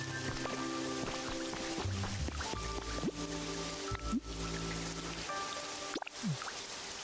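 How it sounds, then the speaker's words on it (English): Rain in the video game Pokopia, a steady patter of raindrops under tonal game music and chimes, with a few brief swooping effects. "So I can just let him know whenever I want it to rain?"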